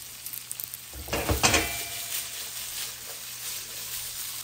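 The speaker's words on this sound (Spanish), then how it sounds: "Ya tengo la sartén con aceite bien caliente. Ahí está. Las papas a nadar." Potato strips drop into a pan of hot oil, setting off a loud burst of sizzling that settles into a softer, steady frying hiss.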